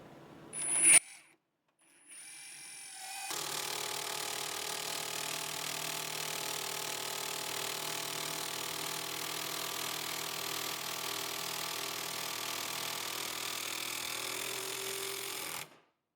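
A Metabo HPT 18V triple hammer impact driver in soft mode drives a 3-inch coarse-thread drywall screw: a brief burst, a pause, then one long steady whirring, rattling run of about twelve seconds, close and alone.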